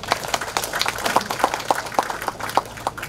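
Applause at the inauguration of a five-storey type B hospital with Covid-19 care rooms: scattered, uneven claps from a modest indoor audience, fairly close and steady for a few seconds with no voices over them.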